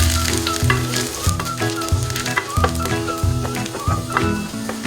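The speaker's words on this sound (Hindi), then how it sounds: "थोड़ी देर इसको फ्राई करेंगे।" Ginger and garlic sizzling in oil in a pan for Hyderabadi chicken 65, a busy steady crackle with repeated scraping stirs in an uneven rhythm, close and loud with no speech.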